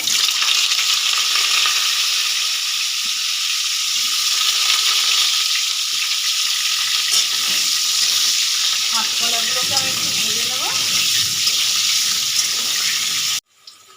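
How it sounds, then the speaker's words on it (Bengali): Raw green banana pieces sizzle in hot oil for shukto, a dense continuous frying hiss with occasional stirring scrapes, loud and close, ending abruptly near the finish. "এই দেখো আমার কলাগুলো ভাজা হয়ে গেছে"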